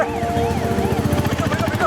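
A wailing ambulance siren sweeps up and down repeatedly, loud and close, with a rhythmic vehicle rumble beneath it.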